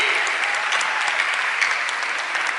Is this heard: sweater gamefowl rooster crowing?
no